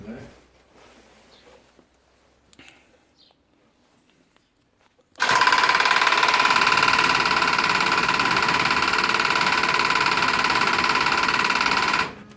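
A 1972 Range Rover engine catches and runs at a steady, loud idle for about seven seconds after a near-silent lead-in with faint movement, then cuts off abruptly.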